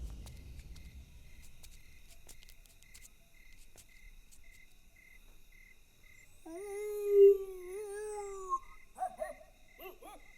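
A man imitates a dog's bark and whine as a coded signal in a Hindi comedy film scene, a short yelping call rising near the end over a steady night-time cricket chirp, fairly faint and with no other voices.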